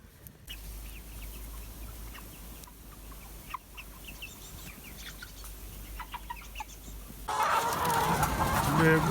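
Forty hens on an urban farm being moved to another eggmobile cluck in a steady chattering flock, moderately near, the din growing louder toward the end.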